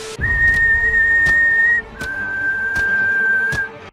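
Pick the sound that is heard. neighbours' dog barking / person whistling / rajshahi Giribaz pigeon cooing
person whistling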